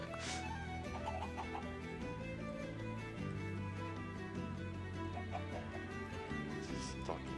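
Chickens in the video game Minecraft cluck faintly in short bursts, set low beneath continuous game music, quiet overall.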